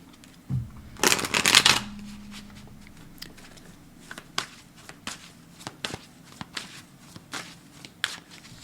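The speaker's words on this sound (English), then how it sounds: "Let's give that one more shuffle." Tarot cards are riffled in a loud burst, then shuffled and tapped with soft scattered flicks and pats, close by with no talking.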